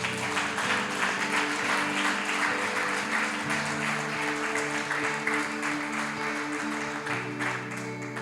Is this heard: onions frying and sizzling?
no